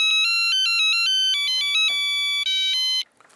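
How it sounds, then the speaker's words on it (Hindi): A phone ringtone plays a bright, repeating electronic melody loudly for about three seconds and then cuts off abruptly, with no talking over it. "देव भाई को फोन करके पूछ लेता हूँ।"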